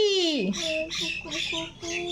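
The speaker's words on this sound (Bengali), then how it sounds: "ঘুঘু পাখি ডাকছে গাছে" A bird's squawking calls in a tree, identified as a dove, sound as a rising-falling harsh note followed by a short series of repeated rhythmic calls, fairly loud and close, with no talk.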